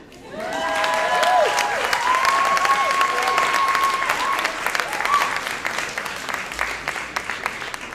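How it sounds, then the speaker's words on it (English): A gala crowd claps for the SAJA co-founder, a loud, dense wash of applause that swells early, then gradually thins into scattered claps, with some cheering and voices under it. "please give a round of applause for our SAJA co-founder"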